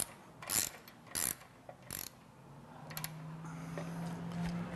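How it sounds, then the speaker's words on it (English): A hand ratchet cranks the counterweight assembly of a car wash top brush, making several loud, close bursts of rapid clicking spaced apart, followed by a low mechanical hum with scattered softer ticks. "We're going to take this ratchet and we're just going to move the counterweight assembly."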